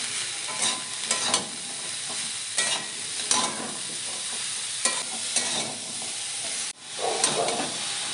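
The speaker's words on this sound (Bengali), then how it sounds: "দিয়ে ভালো করে কষিয়ে নেব।" A vegetable cutlet mixture is stir-fried in a pan with salt, giving a continuous hissing sizzle with repeated rhythmic scrapes of a spatula, close and fairly loud, one sharp clatter near the end.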